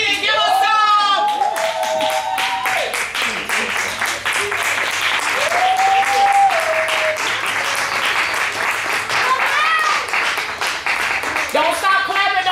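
Guests clapping at a surprise 65th birthday party, a sustained burst of crowd applause with a voice calling out and whistling over the clapping.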